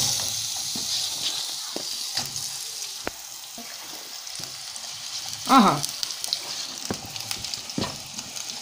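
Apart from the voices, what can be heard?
onion and pepper frying in oil in a pan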